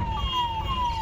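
A vehicle siren on the road wails loud and close in a steady, gliding tone over a low traffic rumble, with no talking.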